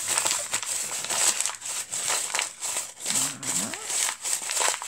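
A sheet of paper being crumpled hard into many creases, a continuous close crinkling and crackling with rhythmic squeezing bursts, with a faint voice in the background.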